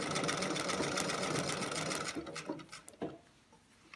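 A sewing machine stitches hidden bias tape onto a collar, close and fairly quiet, running steadily for about two seconds before slowing into a few short bursts and stopping.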